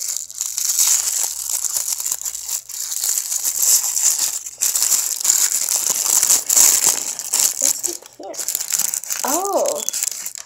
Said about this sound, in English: Some little tissue paper.